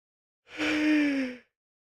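A person gives a single long, close yawn, a drawn-out voiced breath that swells and fades over about a second.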